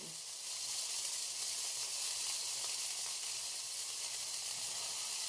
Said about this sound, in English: I might not be able to finish cooking this burger